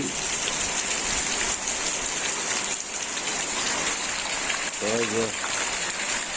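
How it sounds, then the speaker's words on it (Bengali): Rain falls steadily after a night of storm winds, a continuous hiss of water on surfaces with drips and runoff close by, and a voice briefly heard underneath. "বৃষ্টি"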